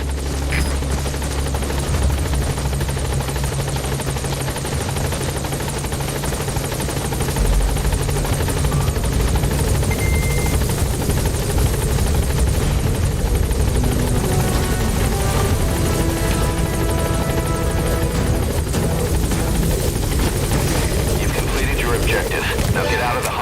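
Helicopter rotor chop and turbine whine from a support helicopter arriving at a landing zone in Metal Gear Solid V: The Phantom Pain fill the scene continuously and loudly, with voices speaking over the noise.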